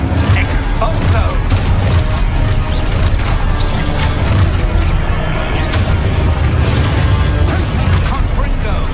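Spell combat in Hogwarts Legacy, with an Expulso blasting spell exploding among dense, loud crashes, booms and impacts that run continuously, while a character shouts spell names over the chaos.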